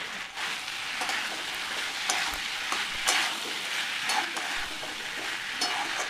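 Jackfruit and potato sautéing with spices in a pan, a steady close sizzle with crackling spatters and occasional stirring scrapes, with no voices.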